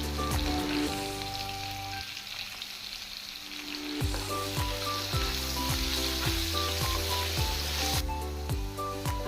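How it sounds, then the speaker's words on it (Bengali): Potato pieces fry in hot oil with a steady, dense sizzle that continues throughout, while background music plays over it; no one speaks. "এই তেলে এখন আলুগুলোকে ভেজে নেব।"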